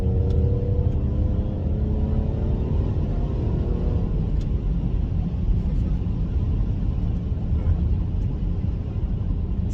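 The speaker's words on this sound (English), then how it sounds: "the sound right now in Sports Plus mode is not very loud, but it's a more performance sound" Mercedes-Benz GLE43 AMG engine in Sports Plus mode, a steady low droning rumble from inside the car, fairly subdued, with a faint rising tone early on.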